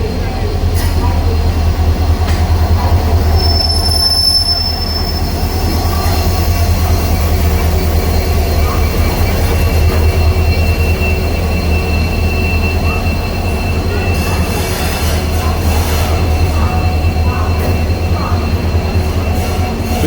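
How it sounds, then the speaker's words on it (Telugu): A Visakhapatnam–Araku passenger train with a Vistadome coach, hauled by a diesel locomotive, rumbles steadily with continuous wheel and track noise and occasional faint squeals, heard from on board. "మన రేకుని డీజిల్ లోకోమోటివ్ తీసుకొస్తుంది."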